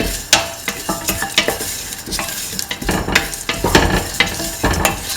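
A spoon stirs rice flakes with salt in a pot, scraping and clinking in an irregular rhythm. The sound is close and fairly loud over a soft sizzle, with no one speaking.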